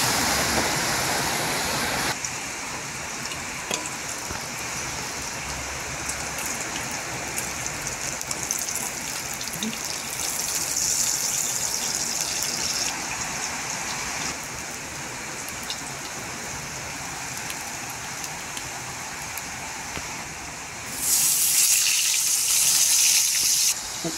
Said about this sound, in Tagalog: Lakas yung ulan dito.